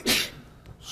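A single sharp sneeze bursts out close by during a university computer science class, followed by a brief quiet breath.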